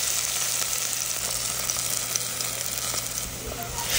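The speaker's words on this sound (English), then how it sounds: "brown some onions in them" Onions browning to golden in a pan for green peas pulao give a steady, even sizzle that stays constant and moderately loud throughout.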